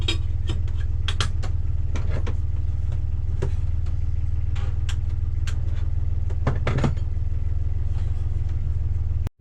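A sailboat motors out of Santa Elena under engine power in the early morning, a steady low diesel hum running throughout with scattered knocks and clatter over it.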